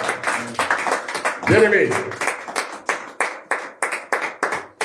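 A church congregation claps in a fast, steady rhythm to acclaim the Word at a French-language sermon, with a voice calling out briefly over the clapping.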